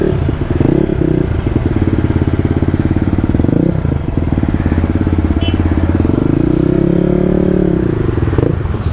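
A supermoto motorcycle engine idles with a loud, steady, close-up burble, then revs up and falls back twice, with a faint voice in the background.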